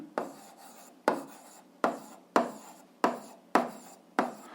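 Chalk or a pen strikes and scrapes a surface in about seven sharp, evenly spaced strokes while a math solution is written down. Each stroke starts with a crisp tap and fades quickly, close by, with no voice.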